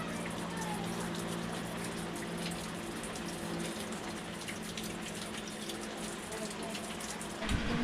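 Steady, dense rain hisses continuously, a broad wash of noise with a low hum underneath and a brief knock near the end.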